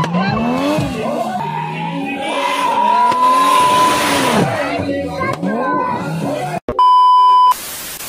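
At an underground car meet in India, a car with a gold-wrapped exhaust revs loudly in rising and falling bursts among tire squeal and crowd noise, ending with a brief electronic beep tone.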